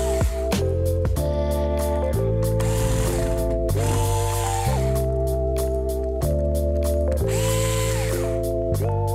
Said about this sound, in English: Once the bezel is off, there's four screws that need removed.